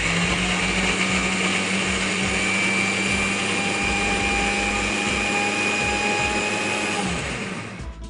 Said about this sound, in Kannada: ಸೊ ಇವಾಗ ಇದನ್ನ ಗ್ರೈಂಡ್ ಮಾಡ್ಕೊಡಿ